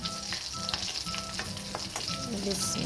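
Coated chicken nuggets frying in hot oil, a loud, close, continuous sizzle broken by brief crackles and light stirring knocks.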